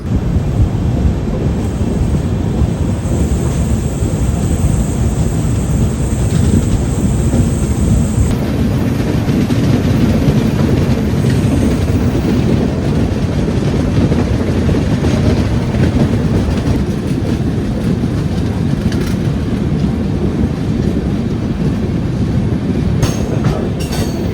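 The 16347 Trivandrum–Mangaluru Express with new LHB coaches runs past near Kollam station, a loud, continuous, close rumble of wheels on rails with steady rattling that holds for the whole stretch.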